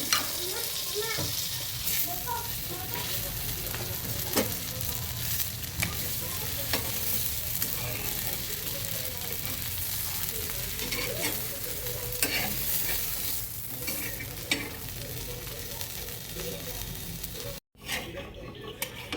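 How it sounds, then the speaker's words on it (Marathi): Dabeli buns toasting in butter on a pan sizzle and crackle steadily throughout, with occasional scraping and stirring taps; the frying stays loud and continuous until a brief cutout near the end. "आता बटाट टाकून आपण दाबेली भाजून घेऊ"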